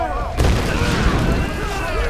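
Gunfire and explosive booms from the Tomb Raider 2013 video game, a dense continuous barrage of loud blasts and rumbling combat noise with a talking voice mixed in.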